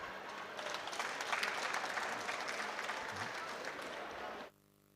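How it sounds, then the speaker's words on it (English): An audience at an African climate policy event applauds presenters, a full wash of clapping that holds steady for several seconds and then cuts off abruptly near the end. "Please, one more round of applause"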